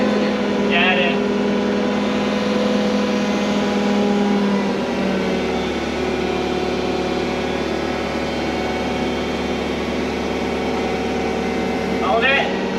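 The engine of the Tombstone vehicle, whose transmission was being repaired, runs close by with a steady droning hum that swells slightly as gas is applied, while people talk over it.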